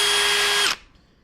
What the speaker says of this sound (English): use a spot weld drill bit on a slow speed setting